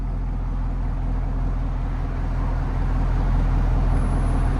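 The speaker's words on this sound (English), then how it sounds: "Let it idle, and then look at idle," 2016-2018 Chevy Camaro SS with a Borla exhaust idling, a steady, deep, even burble with a rhythmic low pulse, close and constant throughout.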